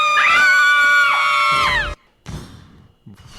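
A movie scream, played for a guessing game, rings out loud and shrill for almost two seconds with a bending pitch. Two shorter, rougher shouts follow after a brief gap.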